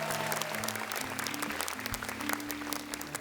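Audience applause for a stand-up comedian at a comedy show, a moderately distant crowd clapping steadily throughout, with low sustained music tones running underneath.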